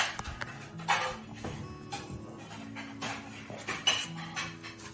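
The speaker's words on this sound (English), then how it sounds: "all I'm gonna do is use a cookie scoop" Gluten-free roll dough is scooped with a cookie scoop onto a cookie sheet, giving soft metallic scrapes and light clinks in a quick irregular series, with a few sharper taps, close and moderately quiet, with no talking.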